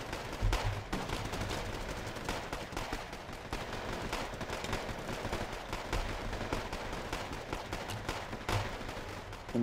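Distant battle din from the video game Wargame Red Dragon: artillery and small-arms gunfire crackle and thud continuously at a low, steady level, with no clear pauses.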